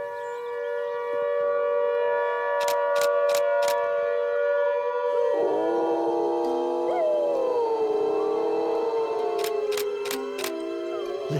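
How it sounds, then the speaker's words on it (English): Long, wavering wolf howls rise and fall, several overlapping voices blending into a chorus, with a few short sharp clicks scattered through. "With a double whammy of howling wolves,"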